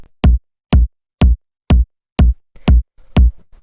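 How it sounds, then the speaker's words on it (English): Layered, punchy low-end kick drum sample for progressive melodic house, struck eight times in a steady four-on-the-floor pulse, each hit loud, close and tight with a deep body and short decay, alone with no other sounds. "After that, we have the kick, which sounds like this."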